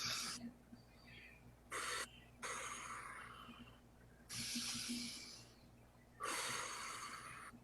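Slow, deep breaths during a calming exercise, several long airy inhales and exhales spaced a second or two apart, close and fairly quiet, with no talking over them.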